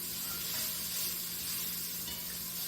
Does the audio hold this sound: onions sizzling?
yes